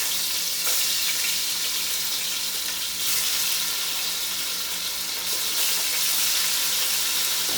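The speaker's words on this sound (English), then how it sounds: "now I'm going to add my oxtail to the pot" Oxtail pieces drop into a pot for an old-style pot roast, giving a steady bright sizzle and hiss with faint clatter, continuous and close, with no talking.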